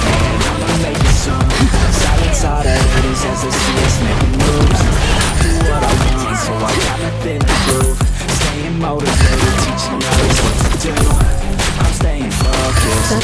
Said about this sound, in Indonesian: Tidak ada satupun tembakan yang meleset. Satu tembakan, satu nyawa melayang.